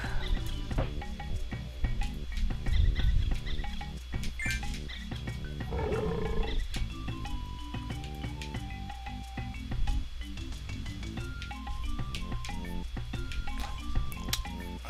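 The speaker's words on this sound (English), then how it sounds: "And then you roar in their faces" A lion roars in The Lion King game amid busy game music and effects. There are several loud, rough roars in the first half, and no one speaks.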